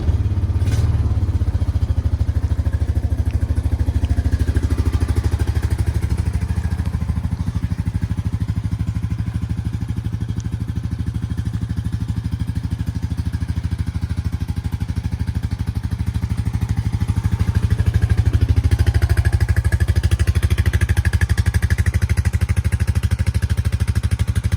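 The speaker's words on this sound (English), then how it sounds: "EFI starts right up." A 2023 Honda Rancher ATV with fuel-injected engine idles steadily and loudly at close range, a constant low hum with clattery mechanical texture and a slight rise near the end, with no talking.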